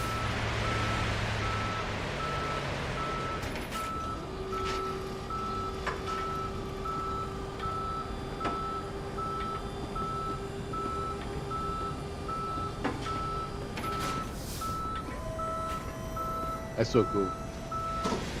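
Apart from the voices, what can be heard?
tow truck reversing beeps in Police Simulator video game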